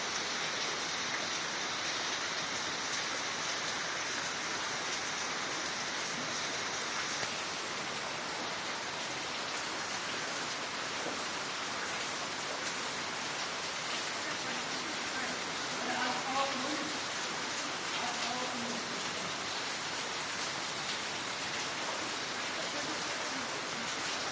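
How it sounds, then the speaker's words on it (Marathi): Flood water spreads across a school ground in the rain, giving a steady, dense wash of rushing water and rainfall that holds at an even level from start to finish. "पुराचे पाणी वाढतच असून पूर्ण पटांगणात पुराचे पाणी"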